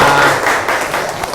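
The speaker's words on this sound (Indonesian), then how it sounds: "Tepuk tangan buat kita semua." A classroom group claps together in a short, loud burst of close hand claps mixed with light thumps, sounding like a coordinated class clap.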